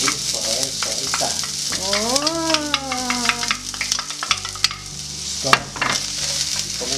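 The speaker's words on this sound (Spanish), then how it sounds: "Ya que está bien caliente nuestro aceite, vamos a poner a citronar la cebolla" Onion sautéing in hot oil in a cast iron pan, a close steady sizzle with spatula scrapes and taps while someone speaks briefly over it.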